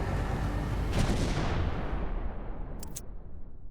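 A missile warhead detonates just meters from an aircraft cockpit, giving a loud, rumbling blast that swells and then slowly decays, with a brief sharp crackle near the end.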